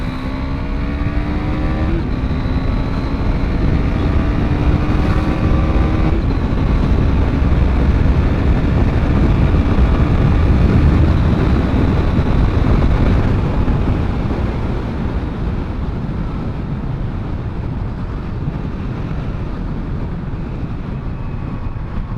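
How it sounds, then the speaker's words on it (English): A 2017 KTM Duke 390 on a speed run, its engine note rising through the gears with shift breaks early on, over heavy, continuous wind rush, loud and close. "So now let's do a little bit of a speed run here and see what the bike is capable of."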